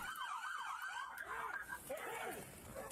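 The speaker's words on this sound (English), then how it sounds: "I wonder why the sirens didn't quit." A police car siren keeps wailing in a rising and falling pattern after the car has stopped, moderately close and continuous, with a dog barking faintly in the background.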